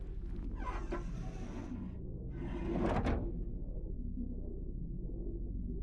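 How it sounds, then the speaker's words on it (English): A heavy sliding door is cranked open by a manual floor winch in a video game, giving a grinding, scraping rumble in two long strokes over a deep steady drone, with no one speaking. "Working the winch will open the door."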